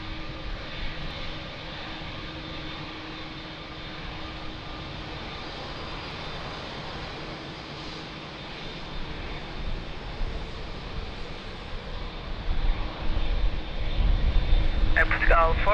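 A Portuguese Air Force aircraft at Lisbon Airport gives off a steady, distant engine drone that grows louder toward the end, with talk running over it.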